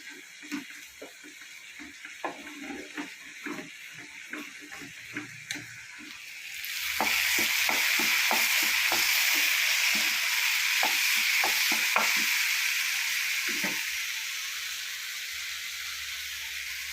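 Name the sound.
frying raisins, cashews and coconut pieces in a pan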